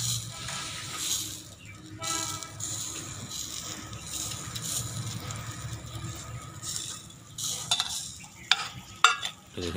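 Chicken hearts grilling on a barbecue while being brushed lightly with ghee give off a steady low sizzle and crackle for the whole stretch, with a few sharper clicks and taps near the end.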